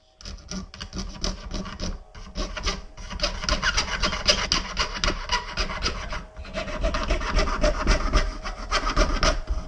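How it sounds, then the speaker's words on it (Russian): A handsaw cuts through glued wood veneer for a ukulele body. Rapid, steady rasping strokes repeat for nearly ten seconds with only a few short pauses, close and loud, with no talking. "С выпиливанием склеенного шпона было весело"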